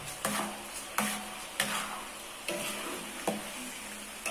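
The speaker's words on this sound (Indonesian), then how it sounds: "kembali kita aduk-aduk terus ya teman-teman, supaya gulanya ini benar-benar diserap semua oleh ubi yang kita goreng ini" A spoon stirs fried sweet potato coated in sugar in a pan over medium heat, with soft sizzling and a handful of sharp scraping clacks at irregular intervals.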